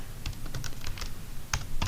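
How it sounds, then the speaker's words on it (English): Fingers type steadily on a computer keyboard at close range, producing quick plastic key clicks in irregular bursts with a couple of heavier presses near the end. "So we can start typing."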